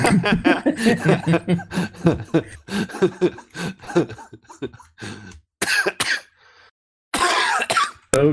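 Several rough coughs and throat-clearing bursts break up between spoken phrases, with a bit of chuckling near the end.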